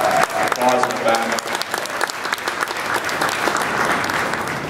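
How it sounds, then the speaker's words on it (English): Applause rises from the back of a lecture audience, steady and sustained across the whole stretch, with a brief voice or whistle-like tone near the start cutting through the clapping. "Here's some applause in the back."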